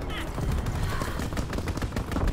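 Rapid aircraft gunfire from a strafing run in a video game, a dense, loud rattling burst of shots running throughout with heavy low rumble.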